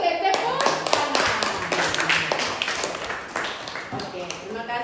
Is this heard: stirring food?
no